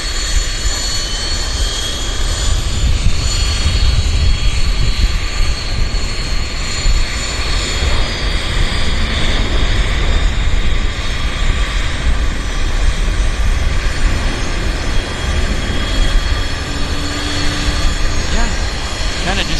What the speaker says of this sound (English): Air North is airspeed alive. 737-400, no winglets.